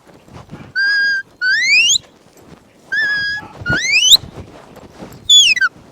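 A shepherd's whistle gives a sheepdog the come-by herding command on a farm: several sharp, shrill blasts, some held flat and others sweeping upward, loud and close, separated by short pauses.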